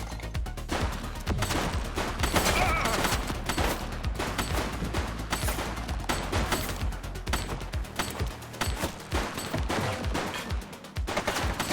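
Rapid bursts of gunfire from The Precinct, a police video game, crackle loudly and continuously throughout, dense volleys layered over a busy backdrop with no clear talk.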